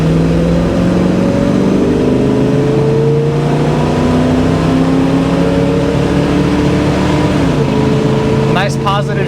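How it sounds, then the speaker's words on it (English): A 1971 Chevrolet Camaro accelerates hard, its engine note rising in pitch, then dropping sharply at a gear shift before climbing again; loud and close, with a brief burst of other noise near the end. "Motor was pulling strong, transmission shift nice and positive."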